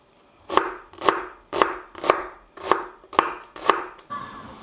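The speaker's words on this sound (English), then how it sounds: "And then we're going to chop that up as well." A knife chops food on a cutting board for spicy chorizo pumpkin soup, seven evenly spaced, crisp chops close by, then a stop.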